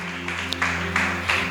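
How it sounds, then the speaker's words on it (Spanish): A congregation applauds during a church service, a steady, moderately loud clapping with a few sharper bursts over a sustained low organ-like hum and no talk. "dale ese fuerte aplauso al Espíritu Santo de Dios"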